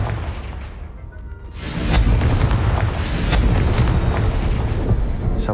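A Confringo spell explodes in the Hogwarts Legacy game, a heavy booming blast that swells after a short lull and rolls on as a loud, dense rumble with crackling bursts layered on top.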